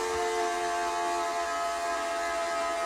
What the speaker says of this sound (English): Somebody tell me why my toilet sounds like this.